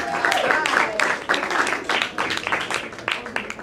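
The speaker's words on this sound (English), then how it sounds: "Clap it up for him." Audience at an open mic night in a small gallery venue clapping and applauding for a performer, a burst of close, uneven claps mixed with cheering voices.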